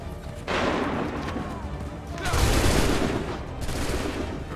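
A volley of musket fire on command in Assassin's Creed III, heavy overlapping gunshots bursting in loud waves with a rumbling crash between them.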